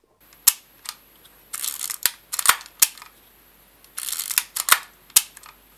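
A 1950s film camera shutter fires repeatedly, sharp mechanical clicks and clacks spaced irregularly, some with brief whirring winds between, close and loud in a quiet room.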